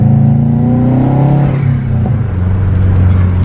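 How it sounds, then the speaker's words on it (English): A rear-wheel-drive Subaru WRX with a boost leak, its turbo fluttering in a loud, close, rapid chatter as the engine revs and then drops, with no voices over it. "It sounds like a fucking supercar flutter. I've never heard a Subaru flutter."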